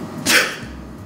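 A single sneeze, made with or without a surgical mask during a droplet-spread test over dishes on a table, bursts out near and fairly loud as one short blast.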